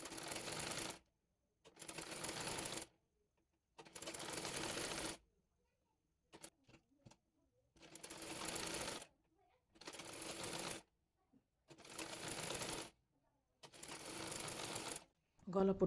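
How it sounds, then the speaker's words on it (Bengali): A domestic sewing machine stitches the folded neck strip of a baby frock in repeated bursts of fast mechanical whirring, each about a second long, separated by short silent pauses, fairly close and clear. "গলাপট্টির কাপড়টি মুড়িয়ে সেলাই করে নেব।"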